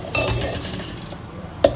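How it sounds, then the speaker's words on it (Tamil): Coconut rice payasam being stirred in a pot, a soft scraping swirl of a spoon with faint bubbling and a couple of light metallic taps, close and fairly quiet. "ஸோ அதை நல்லா கிளறி விடுங்கோ."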